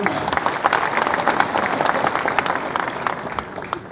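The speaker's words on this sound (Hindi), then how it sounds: "एक बार तालियां बजा के मुझे हौसला दे दो" A crowd at a mushaira poetry gathering in Dubai breaks into sustained applause, dense and fairly loud, with scattered voices and cheers mixed into the clapping.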